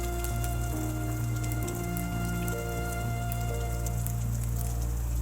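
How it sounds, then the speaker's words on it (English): Steady rain falls without pause, a dense, even hiss of drops on surfaces with faint tonal hums underneath, constant in loudness throughout and with no voices. "You listen to the rain."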